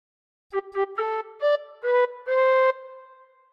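Tin whistle playing a phrase of We Wish You a Merry Christmas, a run of clear, bright notes of varying length, the last one held and fading, played alone with no talking.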